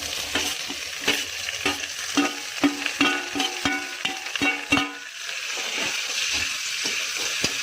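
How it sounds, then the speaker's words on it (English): Chopped pork stir-fries in oil with mashed ginger, a steady sizzle punctuated by rapid rhythmic clanks and scrapes of a spatula against the pan, easing into gentler frying toward the end. "Then stir fry until it gets cooked."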